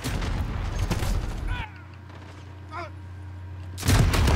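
Explosive weapon fire and a rocket blast in Call of Duty Modern Warfare on the small Shipment map. Loud bursts open and close the clip, with a quieter stretch between them holding a steady hum and brief whistling tones.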